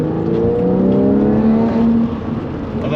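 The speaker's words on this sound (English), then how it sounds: "I don't know if you can hear that bark" A Porsche 996 exhaust with valves open barks and rises in pitch as the engine revs briefly in second gear, a close, deep burble that drops back after a couple of seconds.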